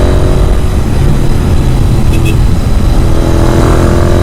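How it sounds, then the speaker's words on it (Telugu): Royal Enfield GT650 motorcycle fitted with a Red Rooster exhaust, a loud, close, steady engine rumble with a deep, throaty exhaust note throughout. "నాకు ఇప్పుడు దీనికి రెడ్ రోస్టర్స్ ఎగ్జాస్ట్ ఉందన్నమాట"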